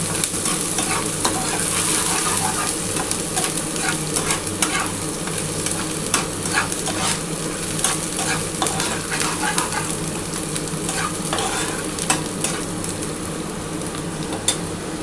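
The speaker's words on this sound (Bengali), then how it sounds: "জিরেটার সাথে পেঁয়াজটা একটু হালকা করে ভাজা হয়ে গেলে" Chopped onion and cumin seeds fry in a little oil in a pan with a steady, close sizzle, while a utensil stirs and scrapes in repeated soft strokes throughout.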